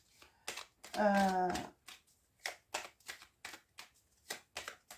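Lenormand fairy oracle cards are shuffled, starting with a riffle and then a series of soft, crisp card slaps and flicks in an uneven rhythm, fairly close and quiet.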